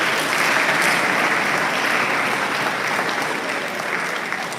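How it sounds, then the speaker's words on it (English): Graduates and guests at a graduation ceremony applaud themselves in a dense, even burst of clapping from a large crowd that tapers a little in the final moment. "Give yourselves a round of applause."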